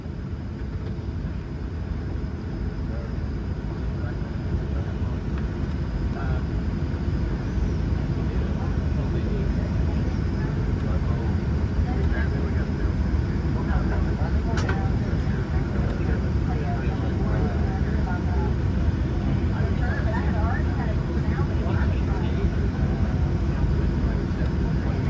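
Steady, loud broadband roar of a Southwest Airlines Boeing 737-700 cabin in flight between Phoenix and Kansas City, continuous engine and airflow noise throughout with faint brief cabin sounds.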